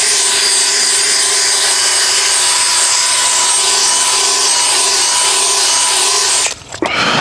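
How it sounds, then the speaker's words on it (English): A drill scrubs car carpets during an executive full interior detail, a steady loud whirring brush drone with a high tonal whine holding for about six seconds before cutting off abruptly. "I'm just drilling out the carpets here"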